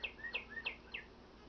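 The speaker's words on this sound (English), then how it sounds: "that's my bird clock going off" A bird-call clock goes off indoors, giving four quick, bright chirps in even succession, fairly faint and clean against a quiet background.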